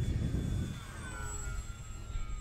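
Radio-controlled model Mustang airplane flying in high winds at Fritz Field, a faint, thin engine whine drifting at a distance over steady wind noise.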